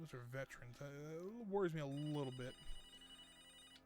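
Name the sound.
telephone ringing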